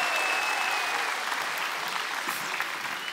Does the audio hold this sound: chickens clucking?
no